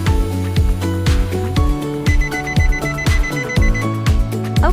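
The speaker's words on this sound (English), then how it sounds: "The buzzer will sound a few times." A Nissan Murano's warning buzzer sounds repeatedly during smart key programming, a loud run of evenly spaced electronic beeps with a steady tonal hum underneath.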